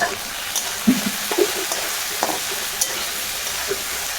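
Vegetable stems frying with turmeric in a pan, a steady hissing sizzle punctuated by small pops and spatters; no talking.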